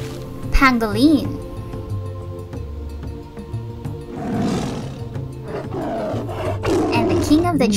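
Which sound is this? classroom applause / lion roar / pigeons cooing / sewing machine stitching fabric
lion roar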